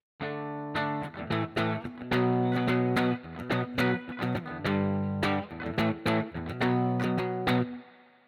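Electric guitar played through an Amplitube Marshall amp simulation with distortion, a string of loud, sustained chords and picked notes with sharp attacks, heard alone and close.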